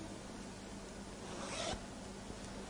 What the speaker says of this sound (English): Now, what I'll do now will be to zip it up completely.